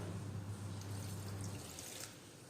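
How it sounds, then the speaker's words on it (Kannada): Water poured from a cup into corn dosa batter in a kitchen bowl, a steady close trickle with a low hum beneath that fades after about a second and a half, with no talking. "ಒಂದು ಅಂದಾಜು ಮೇಲೆ ನಾನು ನೀರು ಹಾಕ್ಕೊಳ್ತಾ ಇದ್ದೀನಿ."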